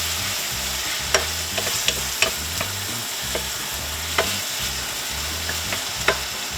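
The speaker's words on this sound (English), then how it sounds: "We're gonna saute this down." Vegetables for a seafood gumbo sizzle steadily in a pot while a wooden spoon stirs and scrapes, with occasional sharp clacks of the spoon against the pot's side, close and fairly loud, no talking.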